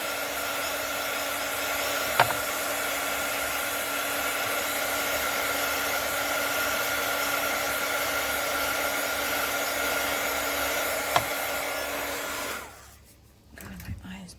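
A hair dryer blows on polymer clay with a steady whirring hum for several seconds, then switches off, leaving quiet with a faint clunk.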